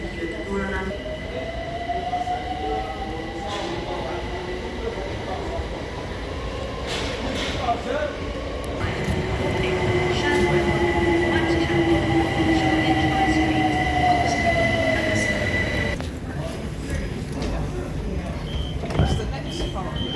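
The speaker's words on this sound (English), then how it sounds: "overland trains, overland." An overland train on the London rail network rolls past up close, wheels squealing and grinding as carriages rumble by loudly for most of the stretch before easing off, with a person talking nearby.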